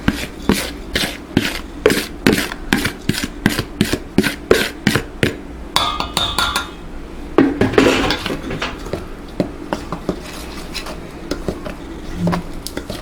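Gingerbread cookie dough ingredients mixed in a bowl, a spoon or whisk clattering against the sides in a fast, steady rhythm of close, sharp scrapes and knocks, then slowing into softer, duller stirring with no talk.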